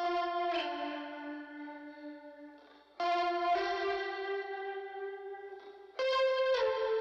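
A lo-fi electric guitar runs through a Walrus Julia pedal, wobbling with vibrato and phasing as it plays three long sustained chords in turn, each struck cleanly and left to ring and fade, quiet with no voices.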